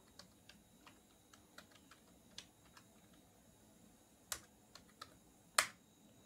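A password is typed on a computer keyboard as a sparse series of soft key clicks at an uneven pace, with two sharper, louder taps near the end against a quiet room.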